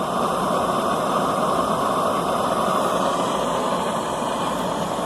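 A cheap eBay backpacking stove burns at full flame, giving a loud, steady broadband roar that holds constant throughout with no talking.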